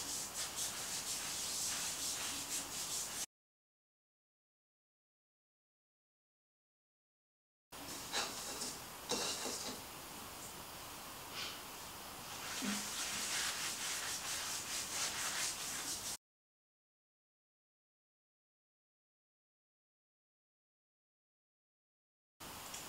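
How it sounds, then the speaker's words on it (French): Continuous rubbing of a homemade exfoliating scrub on the armpits, a close, steady scratchy friction heard in two long stretches separated by silence. "notre mélange pour nous exfolier les aisselles. On frotte, on frotte."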